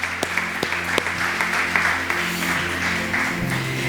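A church congregation breaks into applause with crisp individual claps audible in the mix, steady for a few seconds over a faint low hum.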